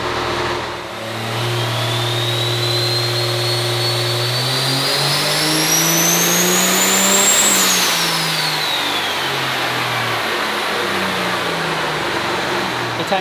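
A 1704 HP fuel-only street truck engine runs on a dyno, a loud sustained roar climbing steadily in pitch to a peak with a high whine, then easing back down.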